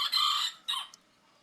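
A red rooster crows once, a loud, close, harsh cry that fades, followed by a shorter clucking call with no one talking.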